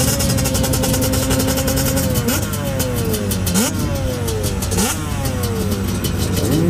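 A Yamaha Banshee two-stroke ATV with a 390 big-bore engine revs hard on a hillclimb, loud and close, its pitch sweeping up and dropping repeatedly through several throttle blips over a constant engine drone.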